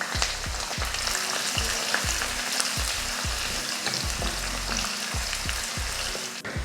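Shallots, mustard seeds, urad dal and curry leaves fry in hot oil with a loud, steady sizzle, while a spoon scrapes the pan in quick repeated strokes. No one speaks.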